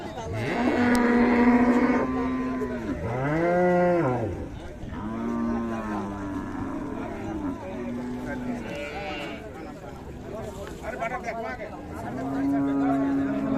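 Cattle at a village cattle market in Ranigonj, Dinajpur, including Friesian cows with calves, lowing in several long, loud moos close by, with traders' voices talking in between.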